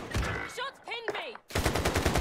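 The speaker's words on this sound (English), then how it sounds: "Under hostile fire!" Gunfire in the video game Call of Duty Warzone: rapid automatic bursts crackle loudly in the opening moments, pause while in-game voice callouts play, then resume as a dense, close, sustained volley.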